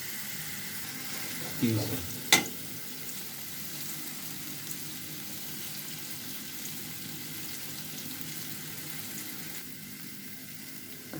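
Tomatoes stirred and frying in a pan give off a steady, moderate sizzle, with a couple of quick spoon scrapes and clatters near the start and a brief spoken word.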